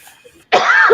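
A man gives one sharp, close cough that breaks the quiet after a faint murmur.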